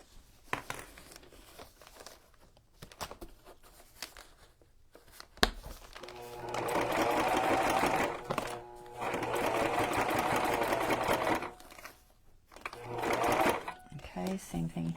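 A sewing machine stitches ribbon onto a journal cover in three loud, rapid runs separated by pauses with rustling paper and handling noises, while a person talks.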